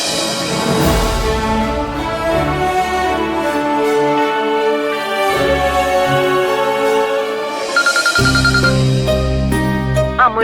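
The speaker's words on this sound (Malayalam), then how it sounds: "ആ, മുരളി ഞാൻ വിളിക്കാം." A melodic phone ringtone plays steadily and loudly for the whole stretch, a layered musical tune rather than a plain bell, with no one speaking over it, during an outgoing call in a Malayalam television serial.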